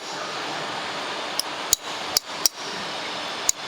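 Hammer blows on a chisel opening up a crack in old terrazzo flooring during a theatre restoration: five sharp metallic taps at irregular spacing, close and distinct over a steady background hum.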